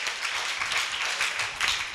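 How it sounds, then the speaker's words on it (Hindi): Audience at a religious discourse clapping hands in thanks to the mothers present, a faint, brief patter of applause heard from a distance. "तालियां बजाओ।"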